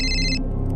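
A telephone rings with a short, loud electronic trill that cuts off partway through, leaving a quiet room tone.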